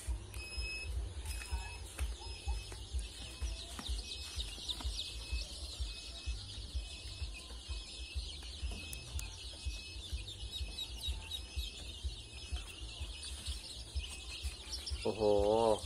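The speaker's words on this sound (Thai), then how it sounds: "เดี๋ยวดูลูกไก่แป๊บนึง" Native village chickens cluck and chicks peep continuously at close range on a backyard farm, a busy mix of soft calls and high chirps throughout.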